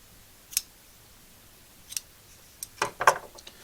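Scissors cut rope for a rope grommet on a canvas pack, giving a few sharp separate snips with pauses between them, then a quicker pair of cuts near the end, close and alone.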